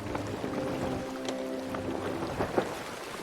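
A sloop sailing across open water in Sea of Thieves, with a steady wash of water and wind, low creaking hull tones, and a few soft splashes and knocks, fairly quiet throughout.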